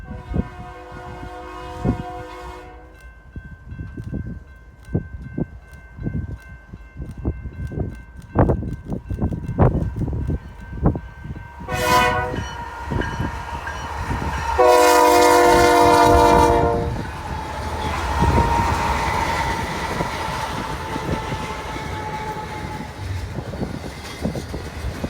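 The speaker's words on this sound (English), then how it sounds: "Here we see BNSF 5805 leading stacks west past the NS unit at speed" BNSF 5805 leads a westbound stack freight past a parked NS unit at speed on the Chillicothe Subdivision in Illinois, a loud steady rumble and clatter of cars with sharp horn blasts near the middle, close by and without talk.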